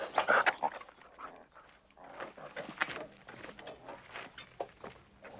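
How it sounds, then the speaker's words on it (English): Several dogs and puppies whimper, yip and pant close by in uneven bursts, louder at the start and then scattered through the rest. "Perhaps you'd like to see the dogs."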